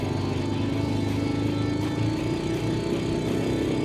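A small American army-style mini jeep climbing a muddy hill produces a steady, close, buzzing small-engine drone that holds a constant pitch throughout.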